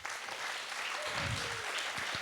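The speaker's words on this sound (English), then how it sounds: "Applaud the poets." An audience at a poetry slam regional final applauds the poets, with dense, sustained clapping and a few whoops filling the room.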